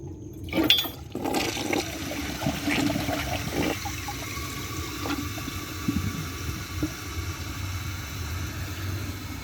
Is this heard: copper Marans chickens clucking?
no